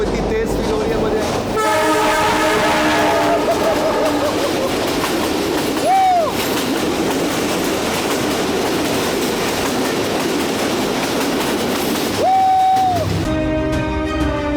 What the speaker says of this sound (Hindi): आवाज़ करीब आ रही है, ट्रेन काफ़ी करीब आ गई है मेरे।